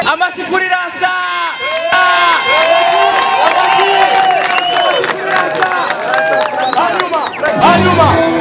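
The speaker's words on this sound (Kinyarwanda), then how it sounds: "amashyi kuri rasta" A large crowd at an event for Rwandan artist Ras Giseke cheers and shouts continuously, with whoops and excited voices rising over a dense roar of cheering.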